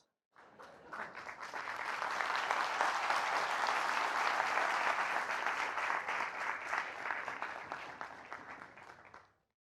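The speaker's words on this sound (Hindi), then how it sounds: "ये इतनी तालियां बजाई" An audience claps at a spiritual discourse on Hinduism, a dense, sustained applause rising quickly, holding steady for several seconds, then fading out, with no talking over it.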